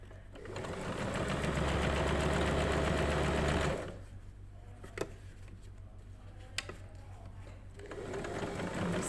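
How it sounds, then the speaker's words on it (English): A sewing machine stitches a lapped zip in a fast, close, steady whir for several seconds, falls quiet apart from a couple of small clicks, then starts running again at the end. "And then you can keep sewing"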